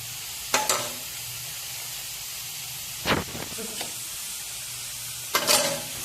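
Carrot custard made with milk cooks in a pan under a steady background hiss, while a spoon scrapes through it in a few brief stirring strokes.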